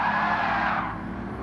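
Short, loud tire squeal as a race car brakes hard in the Gran Turismo 7 racing game on PS5, a sustained skid that fades slightly over a second and a half with engine rumble beneath.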